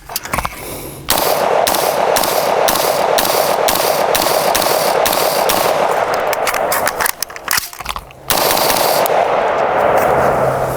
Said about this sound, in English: if you brace yourself a little bit more and really drive that rifle, you'll be able to keep it nice and flat shooting